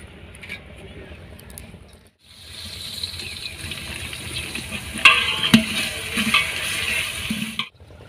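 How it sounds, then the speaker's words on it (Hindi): Chopped onions go into a large pot (degcha) set on a stove for rice, giving a steady sizzle and frying hiss with some stirring clatter, continuous and fairly close, with no talk. "ये जी प्याज जो है ना चले गए हैं देगचे में और देगचा भी चला गया है चूल्हे पे।"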